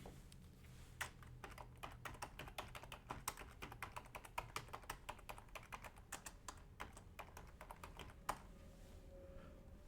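Rapid, uneven typing on a computer keyboard, close and fairly quiet, with irregular clusters of clicks and a few harder key strikes running through the whole stretch.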